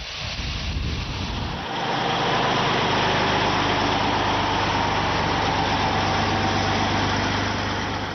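Engines of an Antonov An-225, a huge six-engine Ukrainian-built cargo aircraft, run with a loud, steady broadband roar that swells after the first two seconds and holds at full strength without pause.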